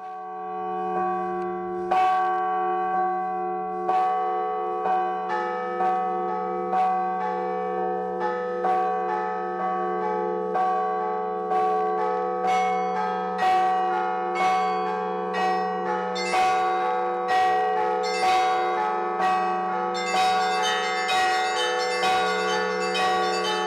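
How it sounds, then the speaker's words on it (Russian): Several ringers sound a peal of church bells together in Kamensk-Uralsky, a steady low bell tone held under a busy, rhythmic pattern of higher bell strikes that grows denser and brighter toward the end, loud and close. "Я покажу на примере, как мы этот звон звонили в Каменске-Уральске."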